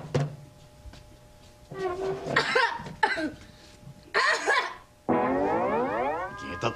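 Harsh coughing in a comedy TV sketch: a sharp burst near the start, then several raspy, throaty coughs mixed with strained voiced sounds, close and fairly loud.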